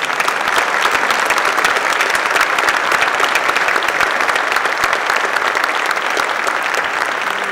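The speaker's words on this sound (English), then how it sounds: "How about a round of applause for our candidates?" Crowd applause at a U.S. House candidate forum in Alaska, loud, dense and sustained clapping from a large audience with no talking, steady throughout.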